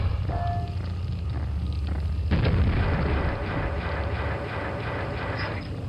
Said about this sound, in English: What if I just fire a grenade into it?